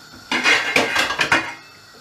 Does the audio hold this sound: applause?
no